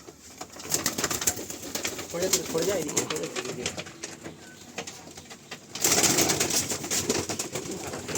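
Pigeons in a loft cooing in repeated soft, throaty calls, close by and continuous, with someone talking over them and a louder burst of activity near the end.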